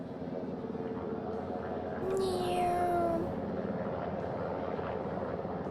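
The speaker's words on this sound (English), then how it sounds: "The first helicopter coming in." A helicopter's rotor drone hums steadily nearby on a ship's flight deck, with a rising whine swelling briefly in the middle as it comes in to land.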